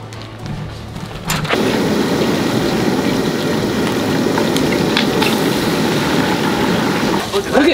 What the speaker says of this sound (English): Look at Speed Racer out there on the mower.